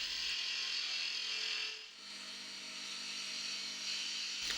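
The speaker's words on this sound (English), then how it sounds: "We can then use a spindle gouge to refine the shape further by rolling down from the top of the body" A spindle gouge cuts wood on a spinning lathe while shaping a vase body, giving a steady hissing scrape that briefly dips mid-cut before resuming, close and moderately quiet with no voices.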